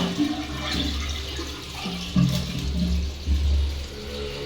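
An old toilet flushes after its flush valve is repaired, giving a rushing gurgle of water with low surging pulses that rise and fall over a few seconds, close and fairly loud.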